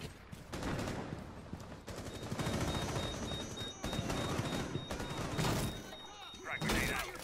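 Bursts of rapid gunfire and thumping shots fill a Terrorist Hunt match in a multiplayer shooter game, loud and repeated in clusters, with players talking over the action.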